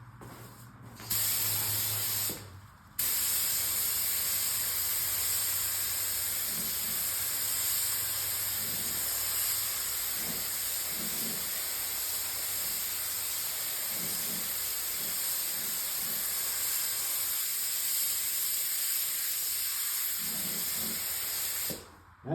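Spray gun spraying sealer onto plastic to test its fan pattern during refinishing of a scratched panel, a steady loud hiss running nearly continuously with one brief break near the start.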